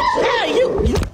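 A dog whimpers close by in a single drawn-out, wavering whine that rises and falls before breaking off.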